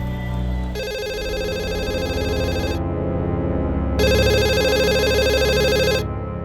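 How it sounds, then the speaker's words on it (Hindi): A landline telephone rings in two long electronic bursts separated by a short pause, clear and nearby. "लैंडलाइन पे फोन लगाओ।"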